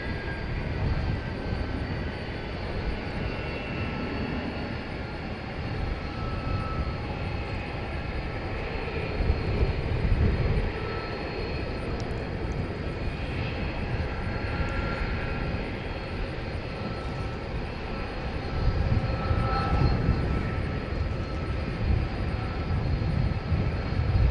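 A jet airplane taking off at night at DFW Airport, a distant, steady roar of engines that swells slightly in places and continues throughout, with a low rumble beneath and no talking.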